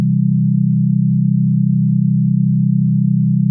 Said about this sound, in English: when I was stacking those notes in C major, we are going to see that we have a different waveform coming as a result of different sine waves